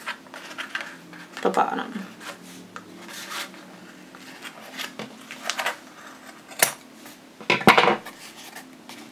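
Scissors cutting yarn snip and clack in short, sharp bursts at close range, mixed with rubbing and handling noises, while a voice speaks briefly.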